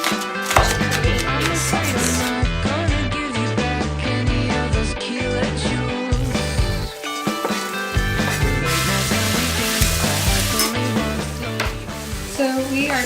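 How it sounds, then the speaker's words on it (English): Quick knife chopping of onions into matchstick-sized pieces on a cutting board, a steady run of sharp taps over continuous background music. "Finally chopping these onions"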